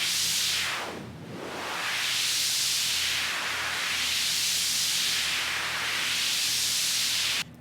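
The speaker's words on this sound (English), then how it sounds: "we're just using white noise for the sake of this little demonstration here at the beginning" White noise generated by NoiseDash running in Docker, with a filter cutoff LFO sweeping the hiss up and down in slow, repeating whooshes; steady and loud throughout, with no voices.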